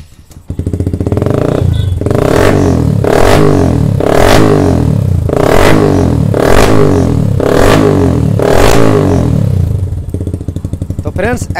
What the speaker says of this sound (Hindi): अब देखिए बाइक हम लोग का स्टार्ट हो जाएगा।